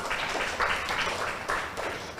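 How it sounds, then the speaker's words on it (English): An audience at a school debate gives both teams a round of applause, a short, fairly loud spell of clapping with uneven bursts. "please give both teams a big round of applause"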